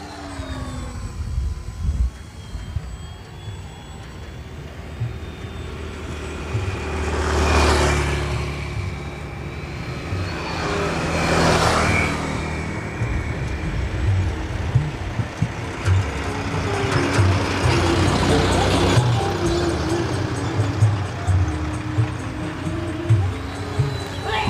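A mini Ugly Stick RC trainer plane with a 90 cm wingspan flies overhead, its small electric motor buzzing steadily and swelling in loud passes as it loops and returns, heard outdoors with no talk.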